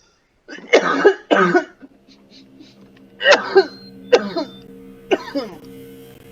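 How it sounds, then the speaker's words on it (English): A person coughs repeatedly in short bursts, several harsh coughs separated by brief pauses, close and loud. "I've been having really bad coughing fits."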